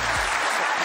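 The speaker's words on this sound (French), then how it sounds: "on peut les applaudir, bravo" A studio audience breaks into sustained applause to welcome two young men who rescued an elderly man from a fire, the clapping broad and steady throughout the brief moment.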